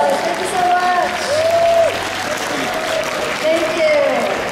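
Audience applause at a comic con film and manga fest Q&A in Rotterdam, a steady crowd clapping throughout with cheering voices and shouts mixed in over it.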